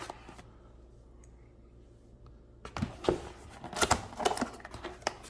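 Cardboard laptop box being cut open with a blade, a quiet pause followed by a burst of close scraping, slicing and rustling strokes of rising loudness.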